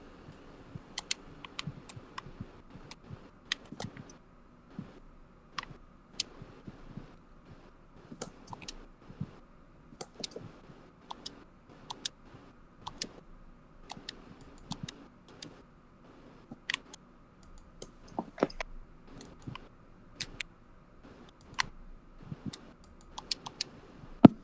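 Sparse, irregular clicks tap away close by over a quiet background, scattered individual ticks and small clusters like a mouse or keys being pressed, with no voices.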